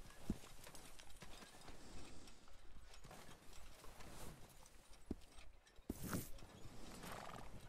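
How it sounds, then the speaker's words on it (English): Horse hooves clip-clop steadily through a snowy video game scene, with a few sharp neighs and whinnies breaking through near and fairly loud. "Oh my God, this horse looks so terrifying."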